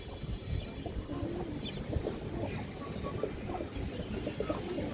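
Pigeon cooing mixed with other bird calls at a pigeon keeper's loft holding fancy breeds, a steady low murmur of coos with faint chirps over constant background noise.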